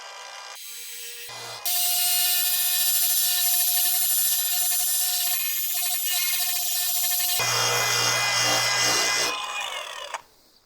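A variable speed angle grinder fitted with a soft backed sanding disc works across metal under very light pressure, giving a steady, loud whine that holds for several seconds, shifts in tone partway through, then spins down.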